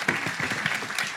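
Brief burst of audience applause at a retail data conference, many hands clapping at a steady moderate level, with individual claps standing out slightly from the crowd.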